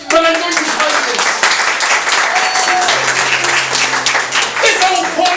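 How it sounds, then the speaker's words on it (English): An audience applauds loudly throughout a staged courtroom scene in an improvised Broadway show. Dense, sustained clapping fills the room while voices call out and talk over it. "Even I know this man deserves an applause."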